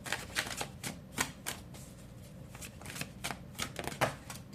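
Tarot cards are shuffled by hand nearby, a run of rapid riffling flicks and soft slaps with a few louder bursts, continuing without pause and without talk.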